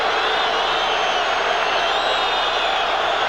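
A steady, loud roar from a packed stadium crowd at a 1989 NFL game, Eagles at New Orleans, holds unbroken throughout with no clear cheering peaks.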